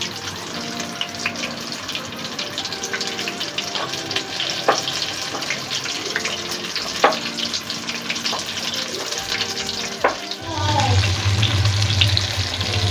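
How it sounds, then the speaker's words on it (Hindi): Chicken lollipops deep fry in oil over a full flame, a continuous bubbling sizzle with occasional clinks that swells louder near the end. "चिकन लॉलीपॉप हमारे फ्राई हो रहे हैं, इनको डीप फ्राई करना है"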